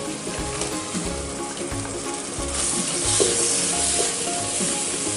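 Chopped tomato goes into hot masala in a pan for egg keema macaroni, giving a steady close sizzle and frying hiss that swells midway, with faint stirring scrapes and no talk.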